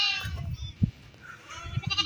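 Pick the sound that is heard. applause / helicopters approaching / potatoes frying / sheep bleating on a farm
sheep bleating on a farm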